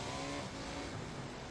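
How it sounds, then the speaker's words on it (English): Jet ski engine in the game Gas Station Simulator, a steady motor drone that dips partway through like a gear change, engine-only and fairly quiet with no talk. "that jet ski just made the noise of a motorbike changing gear"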